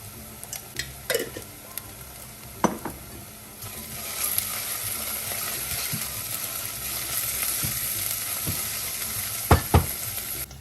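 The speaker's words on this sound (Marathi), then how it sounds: "आता आपण याच्यात टाकूया अद्रक लसूण पेस्ट टाकूयात आपण" Ginger-garlic paste hits hot frying oil, setting off a steady, close sizzle that builds and holds, with occasional clicks and scrapes of a utensil against the pan.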